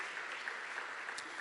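Congregation at a church service giving a sustained round of applause, an even, distant-sounding patter of many hands at low volume.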